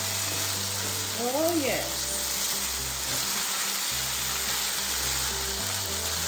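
Beef fries for a pepper steak stir fry with a steady, broad sizzle that holds throughout under a faint background hum, while a person briefly speaks over it.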